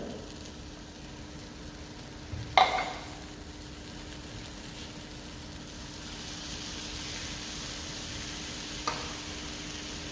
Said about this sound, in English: I give this a good stir up and then let it simmer for a few minutes